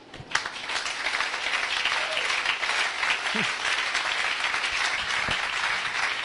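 A church congregation applauds steadily, a dense wash of many hands clapping at even loudness throughout, with a few faint voices mixed in.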